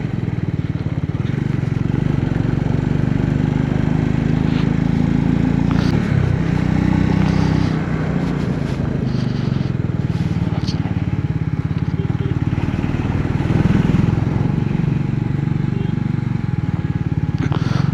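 Motorcycle engine droning steadily throughout a mountain ride from Leh to Nubra Valley in Ladakh, with heavy wind buffeting mixed into the low rumble and no clear speech.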